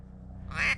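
Ducks on a December hunt in Arizona give a single short, clear quack near the end, breaking through a low steady rumble of background noise.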